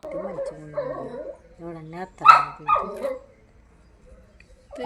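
A dog barks and yelps in several sharp bursts while confronting a monkey near a house, close and fairly loud with whimpering tones between, then a quieter stretch before another bark at the end.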